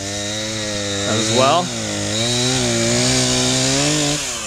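A chainsaw runs loud and close while clearing thick brush along a railroad property, its steady engine drone rising and dipping as it bites into the growth. Someone speaks briefly over it.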